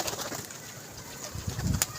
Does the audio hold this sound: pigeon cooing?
yes